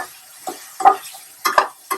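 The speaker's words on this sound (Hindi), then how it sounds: "हाई टू मीडियम में आप इसको सॉटे कीजिए." Vegetables sautéed over high to medium heat, probably with broccoli in the pan: a quiet sizzle runs underneath as several distinct scraping stirs come through close by, with gaps between them.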